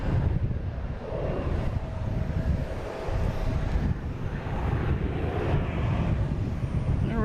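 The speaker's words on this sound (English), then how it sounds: "we have next taking off. We have Bermuda Air heading back to Bermuda in E190, flight 302." A Bermuda Air Embraer E190 jet roars steadily on takeoff, a loud continuous broadband engine rumble with wind buffeting that holds throughout.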